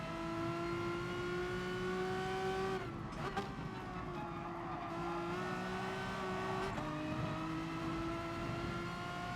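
Race car in GT Sport video game, a steady engine whine holding pitch with shifts and brief dips around gear changes, loud and continuous with faint tire noise.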